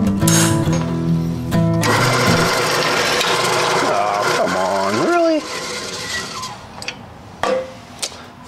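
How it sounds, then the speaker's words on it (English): A drill bores into a 1948 GMC Custom truck's roll pan bumper, giving a loud, sustained grinding rasp that winds down in pitch near the end, followed by a few short clanks. "I think I'm gonna drill this too before I put it under here."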